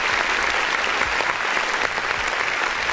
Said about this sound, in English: can we give him a round of applause real quick?